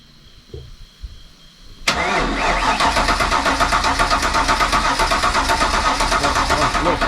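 A car engine in a Fox-body project car cranks and fires up suddenly after a quiet moment, then settles into a loud, rough, steady idle close by.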